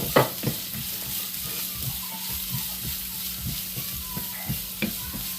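Split garlic cloves and a pinch of ginger sauté in a pan for a dry fish curry with grated coconut: a soft, quiet sizzle with a low hum and repeated light spatula scrapes, close and without speech.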